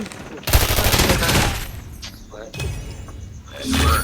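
Automatic rifle fire in the mobile shooter Call of Duty Mobile, with the RUS-79U. Two rapid bursts, one longer and then one shorter, sound close and punchy with someone talking over and between them.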